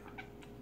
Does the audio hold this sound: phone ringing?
no